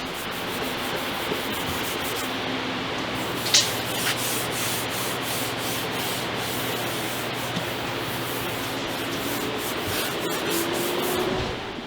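A clay bar rubs across heavily contaminated paint on a Mk7 Volkswagen GTI, giving a steady gritty scraping hiss that holds for the whole stretch, close up and alone, with a brief sharper squeak partway through.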